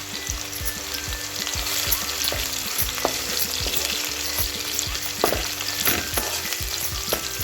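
Curry leaves fry in a pan of finely chopped onions for a village-style tindora masala curry, giving a steady close sizzle broken by repeated scraping knocks of a spoon stirring throughout, with no one talking.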